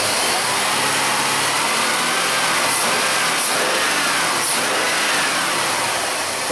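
A Jeep Liberty engine idles while warming up, a steady, even rumble with a broad hiss that stays constant throughout, close and without talk.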